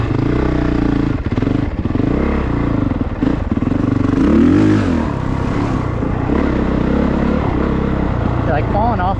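An off-road motorcycle is ridden at Red Bird Offroad Park, its engine droning loud and close the whole time with rising revs, clatter and scraping over the rough ground.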